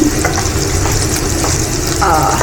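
Onion fries in butter in a pan with a continuous close crackling sizzle, a dense steady hiss that holds at even loudness throughout.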